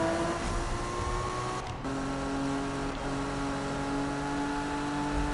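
A Toyota Supra's engine drones steadily in Need for Speed 2015, with sustained harmonic tones that step up in pitch partway through as it revs, loud and continuous with no talking.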